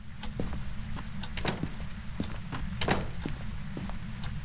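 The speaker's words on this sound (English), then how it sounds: "Close some doors here." Doors thud shut in the ghost-hunting game Phasmophobia, a series of short knocks and clunks scattered over a low steady hum, with no talking.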